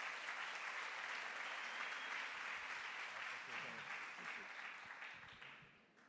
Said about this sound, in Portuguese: Vamos receber o pastor Fabiano Gregório com uma salva de palmas para Jesus.